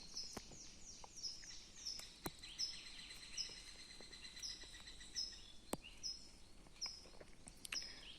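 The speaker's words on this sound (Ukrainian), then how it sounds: "Чутно кожну пташку." Several small birds chirp and trill in repeated short phrases against a hushed, still forest background, with occasional sharp ticks; no voices.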